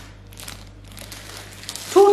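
A plastic bag holding pre-cut chives crinkles up close in short rustling bursts, with a sharper crackle at the end.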